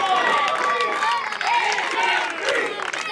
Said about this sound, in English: And the crowd letting them know exactly whose side they're on.